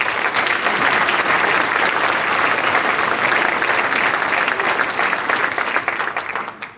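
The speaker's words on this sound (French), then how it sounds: "j'aimerais que nous les applaudissions ce soir" A large crowd applauds steadily and loudly for several seconds, the clapping thinning slightly near the end.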